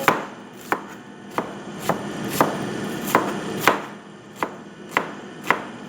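Knife chopping onions on a board during home lunch cooking, giving about ten crisp, evenly spaced chops, close and clear with no talk.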